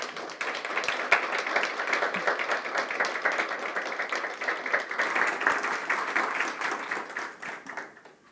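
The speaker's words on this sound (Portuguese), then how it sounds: "essas palmas são de agradecimento e também de parabéns para você" A seated audience at a speaker's talk claps steadily in dense, sustained applause that holds at an even level for several seconds before tapering off at the end.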